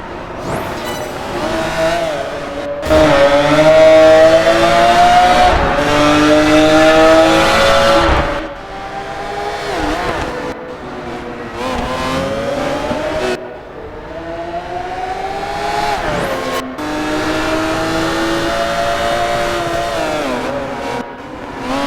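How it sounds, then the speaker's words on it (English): A race car engine in the video game Project Gotham Racing 4 revs hard and loud throughout, with rising and falling pitch sweeps as it accelerates and shifts through gears, and a brief drop in intensity between surges. "You just feel the power of the engine, so to say, through the audio alone."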